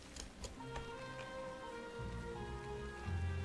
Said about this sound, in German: Es regnet doch.